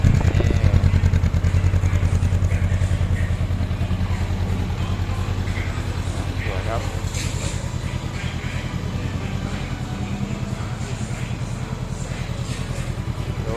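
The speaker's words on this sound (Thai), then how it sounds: "ฟังเสียงรอบเดินเบาก่อนนะครับ" A 2022 Honda CB500X motorcycle idles up close, its even, pulsing engine beat running steadily and loud for the whole stretch with faint mechanical clatter on top.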